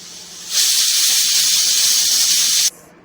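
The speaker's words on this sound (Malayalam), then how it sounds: "കുക്കറിൽ വിസിലടിക്കാൻ പോവാണ്." A loud, sustained hiss of steam bursting from a pressure cooker cooking tapioca for about two seconds, then cutting off sharply.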